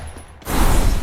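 Shotgun blasts in a video game battle royale fight inside a house, a sudden loud burst after a quiet moment, followed by dense, sustained gunfire noise.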